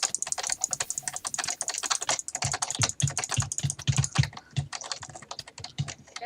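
Rapid, hard typing on a computer keyboard during a PvP game session, dense clattering keystrokes in fast irregular bursts, close and loud.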